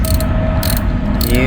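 Ratchet wrench clicking steadily as a bolt is tightened during radiator replacement on a 2015 Suzuki Ertiga, loud and close, rapid pawl ticks running through the whole moment with no talk.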